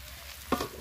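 Mutton and fried potatoes sizzle in a pan as they are stirred, a soft, steady frying hiss broken by a sharp scrape of the spoon.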